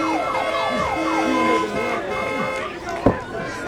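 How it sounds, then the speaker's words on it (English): A wailing alarm siren sweeps up and down through a drive-in wrestling event, loud and fairly close, with commentary talking over it and a sharp thump near the end. "alarms going off all around the house here tonight"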